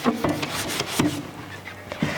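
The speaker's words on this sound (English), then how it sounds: "So the sanding sponge just kind of works for us." A sanding sponge rubs abrasively on a small wooden furniture piece in a few uneven strokes, close and moderately loud, with a faint voice-like hum between them.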